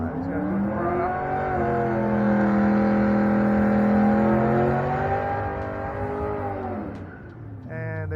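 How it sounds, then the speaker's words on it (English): Drag racing car doing a burnout at New England Dragway, its engine held at a loud sustained high rev for several seconds with a harmonic drone, then dropping off near the end. "He's going to come up and do a burnout if he chooses to do so"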